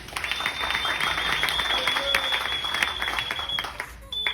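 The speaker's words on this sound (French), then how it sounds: "On applaudit pour Youpi." An audience at a Yupi Global business presentation claps in a sustained, even burst of applause lasting a few seconds, with a faint steady tone running underneath.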